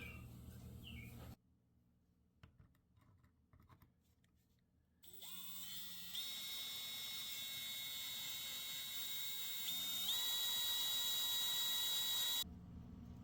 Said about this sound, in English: I got the holes drilled through the handles